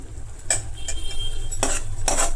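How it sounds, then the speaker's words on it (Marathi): Masala roasting in a pan, stirred with a utensil: a low sizzle under several sharp scraping clinks against the metal, close up and without talk. "तर इथे मी मसाला भाजायला ठेवलेला आहे"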